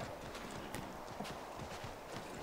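Horse hooves clip-clop steadily on ground in Assassin's Creed III, a quiet, even rhythmic trot heard faintly with no speech over it.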